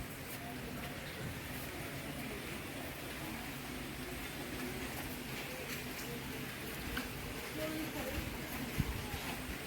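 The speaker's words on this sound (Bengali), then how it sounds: "এখনো ঝিরঝির বৃষ্টি হচ্ছে" Steady light rain hissing continuously, with a low rumbling background and occasional soft bumps; faint voices may be present.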